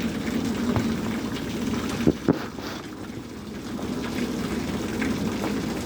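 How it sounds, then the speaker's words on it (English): Heavy rain pouring down in a prolonged downpour, water overflowing from a house gutter; a steady, dense wash of rain noise with a couple of brief knocks partway through, with no one talking. "huge downpour. It has been going on for a couple hours now already."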